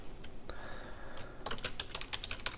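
Typing on a computer keyboard while writing Java code, a brief quick run of close clicks after a few scattered taps, soft against a faint hum.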